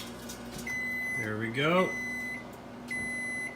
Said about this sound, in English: Timer's about to go off